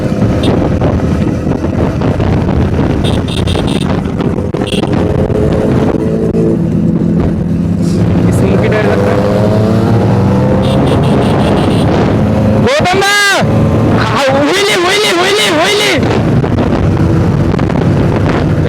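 A Kawasaki ZX10R superbike and a TVS RTR motorcycle ride together at a Kolkata superbike meetup, engines droning and climbing in pitch through heavy wind rush, with voices talking over them.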